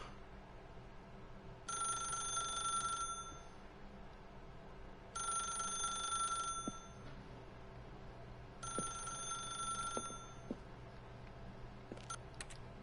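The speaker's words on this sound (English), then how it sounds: "If you can truly place your faith in another, then pick up the phone" A telephone rings in a PS4 video game, three separate bell-like ringing bursts each lasting over a second with pauses between, clear and steady over a low ambient hum with no talk.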